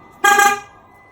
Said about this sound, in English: Do I just go around honking my horn at everyone